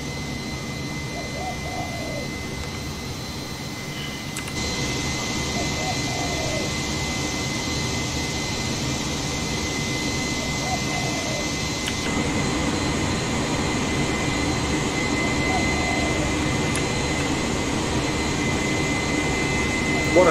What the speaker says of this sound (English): What a takeoff.